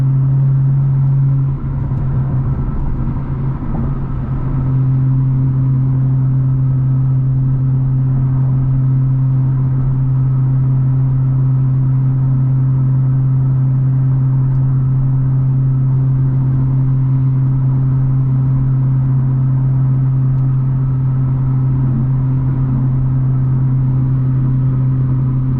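A 500 hp BMW drives along with a steady, loud engine drone and road rumble, the pitch holding fairly constant with a slight rise early on, no voices.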